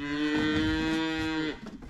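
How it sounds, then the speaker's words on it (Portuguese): A cow moos once on a farm near a gate, a long, steady, tonal call lasting about a second and a half before cutting off, close and clear with no talking over it. "A vaca escorou na porteira, tem que cercar lá, ó."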